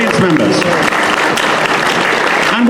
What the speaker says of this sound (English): a huge round of applause for Luckrock for vetting the questions from your wonderful audience members